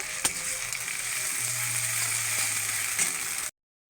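Ginger-garlic paste sizzles and fries in a hot pan for a fish curry with potatoes, a steady close hiss with a few small clicks of stirring, then cutting off abruptly near the end.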